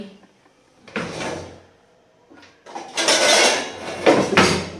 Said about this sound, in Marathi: मला परत ड्रॉवर उघडावा लागेल.